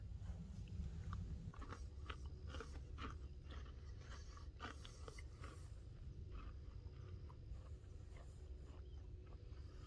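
A big, crisp shortbread-style cookie from a humanitarian MRE is bitten and chewed close up, giving repeated dry crunches over a steady low background hum, with no talking.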